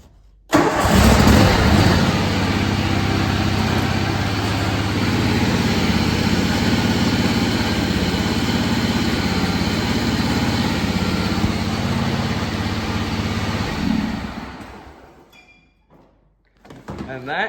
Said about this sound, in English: I'm gonna go ahead and start the tractor and raise the deck up.